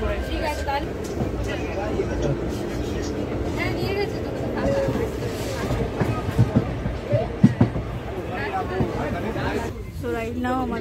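Passenger train, half Bokaro Express and half Chakradharpur Express, rolling along the tracks on the route from Kolkata to Purulia, a steady rumble with clattering wheel knocks around seven seconds, heard from inside the carriage under constant passenger chatter.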